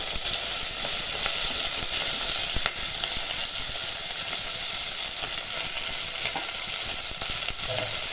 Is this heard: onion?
yes